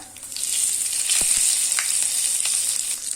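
Whole red chillies and curry leaves hit hot oil with cumin for a fish curry, giving a loud, close, crackling sizzle with sharp pops and a steady bright hiss, and no voices.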